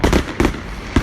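Fireworks bursting over Manor Fields on Bonfire Night, three sharp bangs spaced across a second, each ringing briefly before the next, close and loud with no voices.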